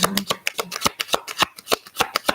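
A deck of tarot cards being shuffled close up, a fast run of crisp riffling snaps and flicks in an uneven rhythm, loud and alone.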